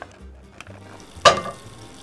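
Lurpak butter dropped into a hot pot on the stove gives a sudden sharp sizzle burst partway through, after faint quiet kitchen handling noises, then settles into a softer hiss.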